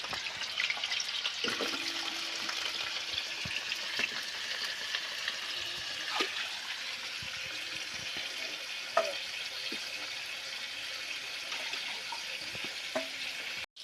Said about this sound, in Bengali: তো এখন আলুগুলো ভালোভাবে ভাজা হয়ে গেছে।